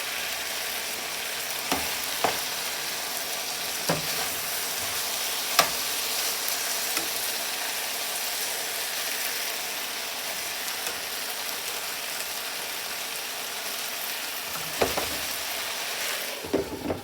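Potatoes and pork chops fry together in one pan, giving a steady close sizzle with occasional sharper scrapes and taps of stirring scattered throughout.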